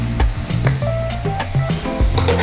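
Sake, mirin and soy sauce hiss in a pan of chicken tsukune skewers over medium heat, a loud, steady sizzle with clicking bursts as the liquid bubbles.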